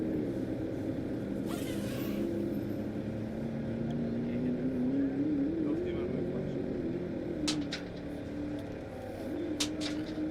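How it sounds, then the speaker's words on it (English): A distant race car engine drones and revs steadily at Speedweek 2025, its pitch wavering up and down as the car struggles to keep straight, with faint background noise and no clear talk. "Sounds like he's struggling to keep the car straight."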